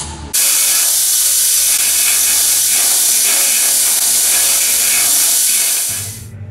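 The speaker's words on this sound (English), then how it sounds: "Now we're about to start grinding them down and beautifying them." Loud, continuous grinder on welded steel quarter window braces inside an XB Falcon Interceptor body, a steady harsh hiss and whine running about six seconds before spinning down.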